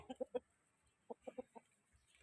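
Young chicks and hens clucking and peeping in two short clusters of close, sharp calls separated by a brief pause, with no talking.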